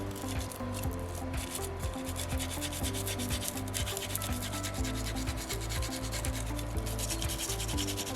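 A soapstone Moai carving is sanded by hand with sandpaper, giving continuous close scratchy rubbing strokes in a quick, even back-and-forth rhythm with no talking.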